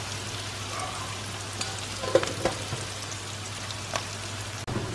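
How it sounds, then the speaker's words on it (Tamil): Onions frying in a pan for Kerala chicken curry, a soft continuous sizzle with a few faint pops and a brief clink near the end, fairly quiet and alone. "ஸோ இது ஃப்ரை ஆகட்டும்."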